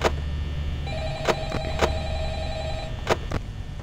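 Phone ringing in the Five Nights at Freddy's video game: a held electronic ring tone with sharp clicks of in-game buttons over a low hum, no speech.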